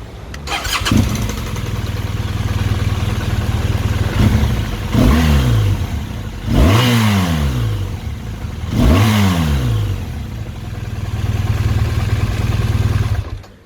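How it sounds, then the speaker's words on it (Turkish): A BMW GS 1200 twin-cylinder motorcycle engine cranks and catches, then settles into a steady loud idle broken by three sharp throttle blips that rev up and fall back, recorded close with no talking. "BMW GS 1200'ün şu anda e, sesini dinleyeceğiz"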